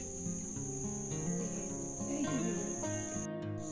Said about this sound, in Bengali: খুব নিস্তব্ধ, ঝিঝি পোকার ডাক এখান দিয়ে শোনা যাচ্ছে।